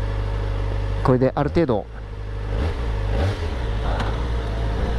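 A Kawasaki Ninja ZX-4RR ridden on the road during break-in, its engine blipping through quick-shifter downshifts near the start over steady wind and engine drone, while the rider talks.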